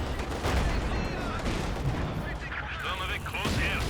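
Tank cannon fire from a Panzer in Company of Heroes 2, shots bouncing off armour amid a dense, loud battle din of repeated booms and gunfire layered throughout.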